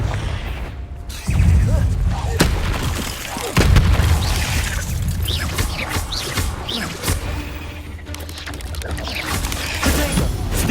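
Confringo blasting spell explosions in Hogwarts Legacy combat, with heavy booms and crackling impacts repeating throughout amid a dense, constant din of battle effects.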